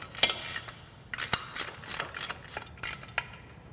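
Ratchet wrench clicking in short bursts while bolts are tightened down during a Polaris Timbersled kit installation, with close, crisp metallic ticks and brief pauses in between.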